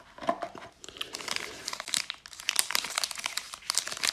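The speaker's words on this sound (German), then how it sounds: "Er hat ein sehr schönes Papier oder eine schöne Folie." Crisp crinkling and rustling of a hanuta hazelnut wafer bar's foil wrapper being handled up close, in irregular bursts of crackle with brief pauses, no talking.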